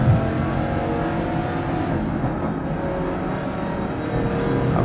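Race car engine in Grid Legends, a steady loud close-up drone with rising and falling revs on a track lap, no talking.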